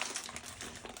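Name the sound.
opening the packaging of a sterile dressing change kit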